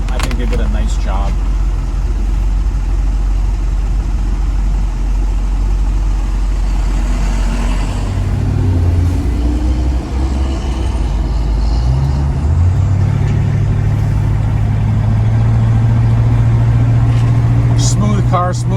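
A 1967 Ford Mustang engine runs steadily with a deep low rumble, revving and shifting partway through, heard up close inside the car.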